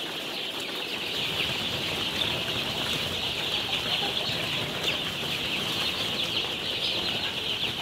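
Week-old chicks fill an enclosed poultry house with a dense, steady chorus of high peeping that stays loud and continuous throughout.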